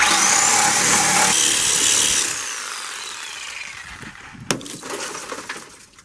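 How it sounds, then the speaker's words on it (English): A saw cuts through the C-pillar door frame of a Toyota Corolla while its roof is being removed. A loud, continuous harsh grinding runs for about two seconds, then drops to a quieter rasp, with one sharp crack near the end. "And now I'm going to cut the C pillar door frame."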